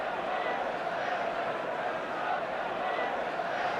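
Steady roar of a large football crowd of about 46,000 at a Manchester City versus Manchester United match in 1978–79, with noise from the United supporters sustained and distant, mixed beneath a commentator's talk.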